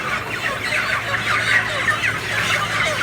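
Many 45-day-old chickens at a poultry dealer cluck and chatter together in a dense, continuous flock sound, close and moderately loud, with a low steady hum beneath and no talk.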